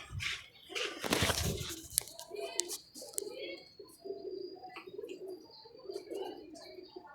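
Pigeons, among them a blue one, coo repeatedly in low rolling calls while boxed during rain, with a burst of rustling and flapping early on and scattered chirps.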